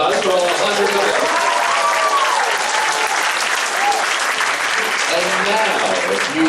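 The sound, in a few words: audience applause after orchestra performance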